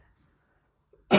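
A single short cough bursts out at the end after near silence, close and fairly loud, with no talk over it.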